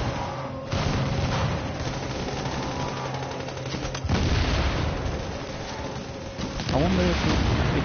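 Video game gunfire with incendiary rounds aimed at an armored personnel carrier, dense rapid bursts and booming impacts running nearly continuously, mixed with game effects.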